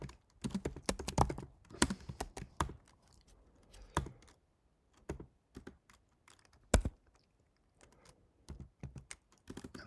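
Haskell code being typed on a computer keyboard, with irregular bursts of close, crisp key clicks and brief pauses between runs, no talking.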